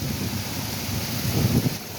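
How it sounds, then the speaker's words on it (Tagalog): Heavy rain pours during a storm, a dense, steady outdoor roar that holds constant and swells slightly toward the end, with no voices over it. "grabe yung ulan"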